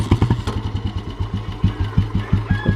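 A Royal Enfield Bullet military-style motorcycle from 2002 idles nearby with a steady, loud single-cylinder thump, about four beats per second, alone with no talk over it.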